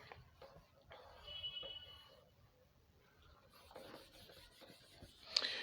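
A pen scratches across paper as equations are written out, with short irregular strokes and scribbles, close and quiet, and a few faint pauses between bursts of writing.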